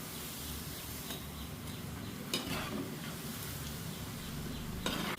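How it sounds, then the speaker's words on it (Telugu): Festival prasadam snacks deep-frying in hot oil on high heat, a steady close sizzle and bubbling crackle throughout, with a couple of brief utensil clinks and no talking. "చక్కగా మంచి కలర్ వచ్చే వరకు వేయించుకోవాలన్నమాట"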